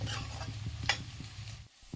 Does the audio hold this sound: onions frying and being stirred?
yes